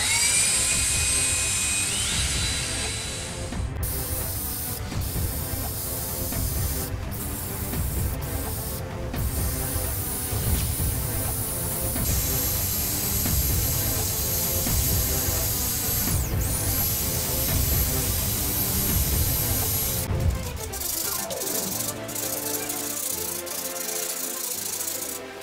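A power sander works the wooden hull of a model ship, giving a continuous loud, close whirring buzz with rattly texture that keeps going for most of the time, then tapers off near the end.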